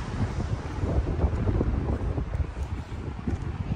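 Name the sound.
strong wind blowing on a beach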